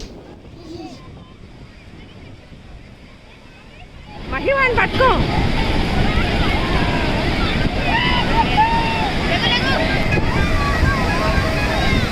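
Ocean surf rolls in at Murudeshwar beach, starting as a low distant murmur and then swelling into a loud, steady wash of breaking waves with wind buffeting the microphone and faint crowd chatter behind.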